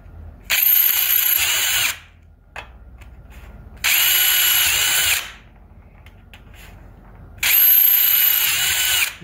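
A power drill with a sharp number 30 bit bores holes in an aircraft fuselage part, three loud sustained whining bursts of about one and a half seconds each, close up with short pauses between them.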